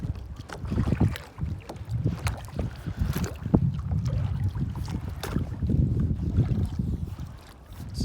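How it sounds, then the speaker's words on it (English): A kayak moves across water with irregular paddle splashes and dips, wind buffeting the microphone in gusts, close and fairly quiet, with no clear talk. "I'm on a kayak right now"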